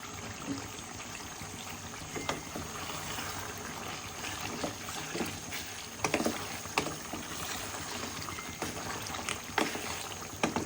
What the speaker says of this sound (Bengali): এখন চুলাটা জ্বালিয়ে আমি মাংসটাকে কষিয়ে নেব ভালো করে।